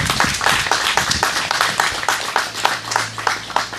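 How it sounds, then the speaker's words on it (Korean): Audience clapping at the close of a Korean lecture on peace, held in Soseong-ri; a steady round of many hands, loud and near, with a low hum entering partway. "큰 박수 부탁드리겠습니다"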